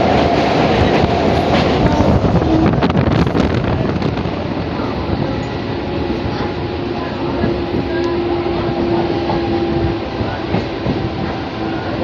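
Local train running from Panskura to Digha, a steady loud rumble of wheels and carriage with rattling throughout, with brief human voices heard faintly over it.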